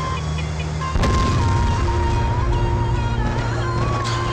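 A missile strike explosion in a video game lands as a sudden loud boom about a second in, followed by a sustained rumbling roar with a steady tone over continuous game noise.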